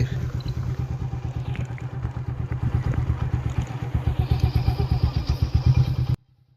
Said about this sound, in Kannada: ಬೈಕ್ ತಿರ್ಸ್ರಿ